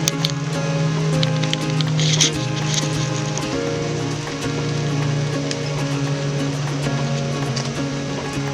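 Steady rain pours down on a Honda Accord during an outdoor detailing and polishing job, a constant dense patter that holds throughout, with a low steady hum underneath.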